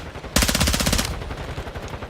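A burst of rapid automatic gunfire from a first-person video game rattles loud and close for under a second, followed by fainter mechanical clatter.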